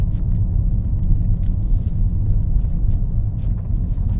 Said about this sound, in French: On entend quand même un peu la voiture qui ronronne